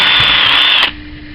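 A cordless drill bores through wood in a school bug and bird box project, a loud high-pitched motor whine that cuts off abruptly after under a second, leaving a low hum.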